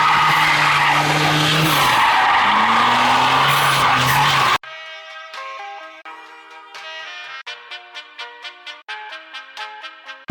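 Car tires skid and screech loudly during a street drifting session, a dense broad roar with wavering squeal tones for several seconds, then the noise cuts off abruptly and gives way to unrelated tonal sounds.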